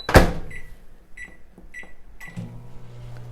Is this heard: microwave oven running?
yes